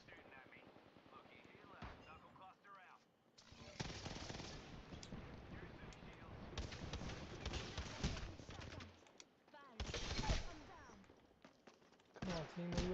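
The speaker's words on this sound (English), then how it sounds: "I can't tell where the fucking gunfire is coming from." Rapid bursts of automatic gunfire from the Apex Legends battle royale game crackle in dense clusters, loud and close at times, with gaps between volleys and a player talking over the action.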